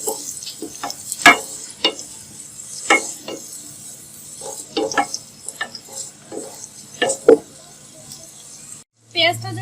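Onions fry in a pan for a duck khichuri, with a soft sizzle under repeated sharp clinks and scrapes of stirring, and a brief voice near the end.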